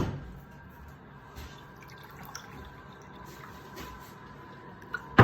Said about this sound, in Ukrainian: Зараз наливаю холодну воду.